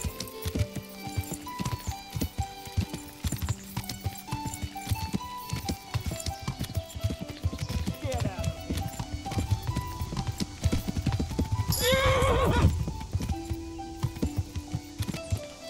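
Horse hooves clip-clopping in a fast, steady rhythm in the medieval video game Kingdom Come: Deliverance, loud and close throughout, with a brief burst of louder rustling and clatter near the end.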